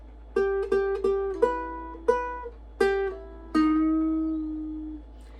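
A ukulele plays a riff as a run of about eight plucked notes, a few of them bent, ending on a longer ringing note; close, clear and unaccompanied.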